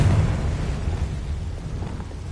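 Bombarda and Confringo spell explosions go off in Hogwarts Legacy, a thick low boom opening loudly then rolling into a dull fading rumble over a couple of seconds, with no talking.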